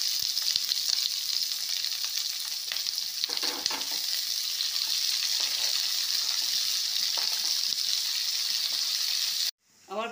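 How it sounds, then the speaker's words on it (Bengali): Chopped green chilli, ginger and onion go into hot oil already tempered with cardamom, cinnamon and cloves, sizzling loudly and evenly with occasional stirring scrapes until an abrupt cutoff near the end. "এবার আমি কাঁচা লঙ্কা কুচি, আদা আর পেঁয়াজ কুচিগুলো তুলে দিচ্ছি।"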